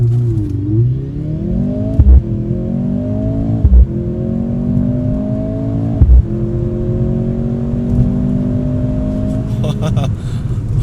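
A 2025 Mercedes-AMG C43 with dual-clutch transmission accelerates hard under launch control, the engine note rising steadily through three quick upshifts before easing off, heard from inside the car.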